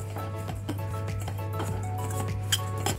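Metal spoon scraping and clinking steadily in a pan as grated coconut and dry fruit filling for karanji is stirred together, with a low steady hum running underneath throughout.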